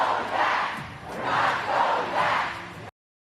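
A large crowd of supporters cheers and roars in swelling waves at a campaign rally in Pittsburgh, Pennsylvania, loud and continuous before cutting off abruptly.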